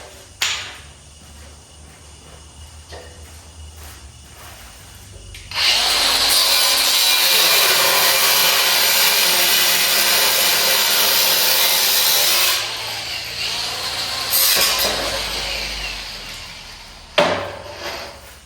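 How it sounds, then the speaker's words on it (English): An angle grinder cuts metal on a 1951 Ford farm truck with a Cummins swap, a loud harsh whine running steadily for several seconds, easing off, then returning in shorter close bursts. "Finish that off with the grinder."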